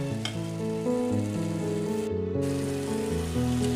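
Coconut burfi mixture bubbling and sizzling steadily as it thickens in a pan, a continuous close cooking hiss with no voices.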